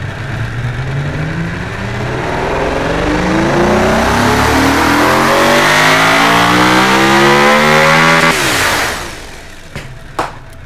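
A supercar engine of about 1600 horsepower in the Automation car-building game revs hard, the pitch climbing steadily for eight seconds at very loud, harsh volume before cutting off abruptly, followed by a few faint clicks.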